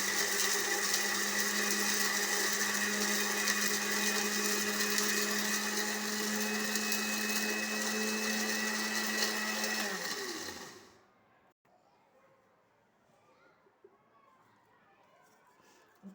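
An electric spice grinder running steadily on garam masala, a loud, close, high-pitched whirring that holds for about ten seconds and then winds down, leaving quiet room noise.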